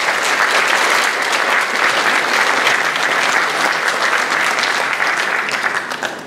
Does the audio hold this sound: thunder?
no